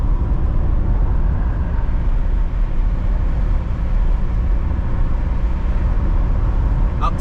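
A BMW E30 driving on a rough road, a loud steady low engine and road rumble filling the cabin throughout, with a brief rattle near the end.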